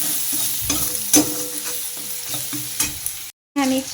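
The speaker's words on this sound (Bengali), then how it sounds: "হলুদ আর পরিমাণ মতো নুন এগুলো দিয়ে একটু ভালো করে আগে নাড়িয়ে নেবো এটাকে মশলাটা কষিয়ে নেবো" A spatula scrapes and stirs a spice paste of Kashmiri red chilli powder, turmeric and salt in a pan for fish curry, with steady sizzling and clattering strokes, close-up and without speech, then a brief silence before the stirring resumes.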